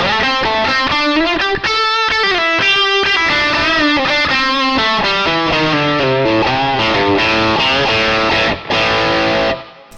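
Distorted electric guitar lead boosted by a Klon-style overdrive pedal stacked on another drive, recorded through a Mooer GS1000 setup; a sustained, singing melodic line of held bent notes plays loud and alone without pause.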